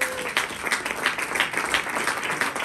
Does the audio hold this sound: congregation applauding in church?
yes